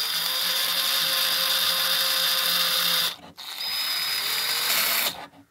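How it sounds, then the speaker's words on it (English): A step drill bores holes into a plastic case for a Commodore 64 synthesizer, a loud, steady whirring grind that runs for about three seconds, pauses briefly, then resumes before stopping. "Probably should use a step drill for this as well to not rip the plastic too much."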